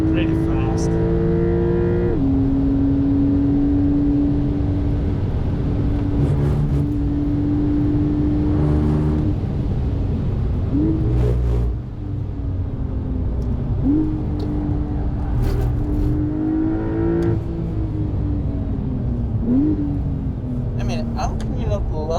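A Porsche 992 Carrera S driving on a racetrack, its engine loud and close as it climbs through the revs with quick gear changes, with a voice talking over it.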